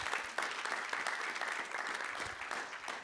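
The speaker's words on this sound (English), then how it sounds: "So just a quick round of applause for HDSI." Audience applause at an AI investing panel event, a short burst of dense clapping from a crowd, moderately distant and steady throughout.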